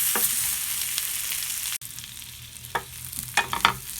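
Marble potatoes frying in butter and garlic sizzle steadily in a pan while being stirred, with a brief cut midway and a few scraping clacks of the utensil toward the end.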